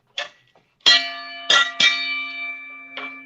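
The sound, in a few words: bell being rung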